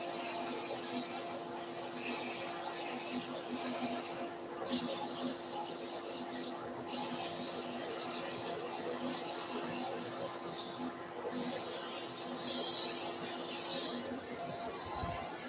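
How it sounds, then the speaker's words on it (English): Steady rasping hiss of 100-grit sandpaper rubbing against thin turned wood, continuous with brief pauses and slight changes in pressure, close by. "So nice and gentle with your sanding."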